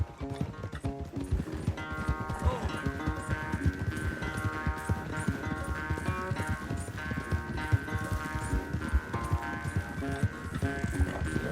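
Horses gallop in a race in the Red Dead Redemption 2 video game, with rapid rhythmic hoofbeats throughout and a melodic game music score playing over them at a moderate level.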